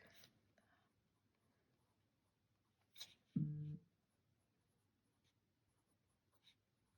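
Pen nib with Diamine Salamander ink scratching across paper, a short burst of drawing strokes in a quiet room, with a brief louder scuff in the middle.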